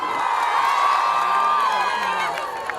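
An audience at a cultural event in Indore cheers and claps for a singer, a dense, steady roar of crowd noise with whoops and shouting sustained throughout.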